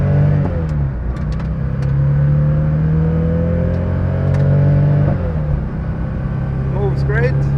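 1970 Porsche 911 engine pulling through gears while driving, a loud rising mid-range drone that climbs, drops at a shift, and climbs again, with cabin road noise underneath and a voice talking over it.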